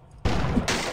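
Barrels exploding in the video game Diablo 2: a sudden loud burst after a brief quiet start, followed by a second blast layered on top, dense and booming with no talking.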